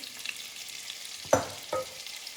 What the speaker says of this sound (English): Okay, so now I'm going to add the carrots in.